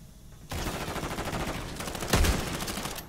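Rapid automatic gunfire in Call of Duty: Modern Warfare III, a dense, loud burst of shots fired with dragon's breath incendiary rounds, continuous for about three seconds with a heavier blast near the end.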